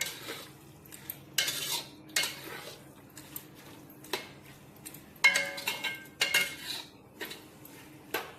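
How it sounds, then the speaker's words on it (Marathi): A metal spoon stirs and sautés chicken biryani masala in a pot, giving a string of scattered clanks and scrapes against the pot with quiet gaps between them. "पण चांगलं परतून घेऊ त्याला. मग वाटावरती शिजून घेऊ."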